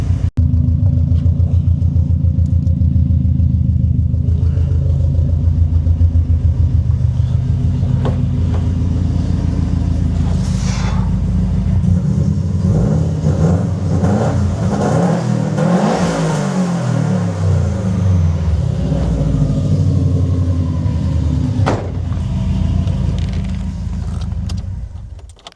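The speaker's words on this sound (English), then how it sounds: "let's give this thing a good old rev so you guys can hear what she sounds like" A car engine idles with a deep, loud rumble, then revs up several times, rising and falling, close by with no talking.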